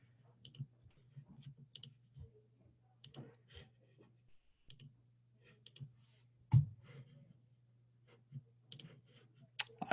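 Computer mouse clicks come in sparse, sharp, quiet single and paired taps at an irregular pace over near-silence, with faint sounds from the desk between them.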